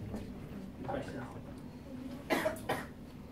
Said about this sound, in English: You're just clearing your throat.